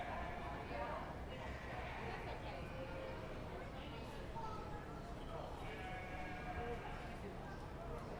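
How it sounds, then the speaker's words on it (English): Horn Dorset ewes bleating at a county fair sheep show, a few faint, distant bleats rising over a quiet background of crowd chatter and arena noise. "we're now ready to show for our Horn Dorset ewes"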